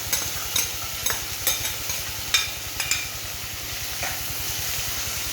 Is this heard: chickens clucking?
no